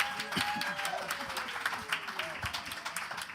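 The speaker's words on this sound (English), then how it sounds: "Clap a little bit harder than that." A crowd at a jazz jam at NJPAC applauds a singer with fairly soft, continuous clapping that carries a faint whistle and a few voices.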